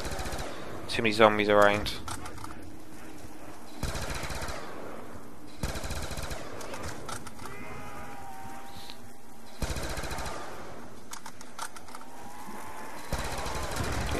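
An upgraded Galil with double tap firing in Black Ops 2 Zombies on the Town map, quick bursts of automatic fire recurring between pauses, with someone talking over the action.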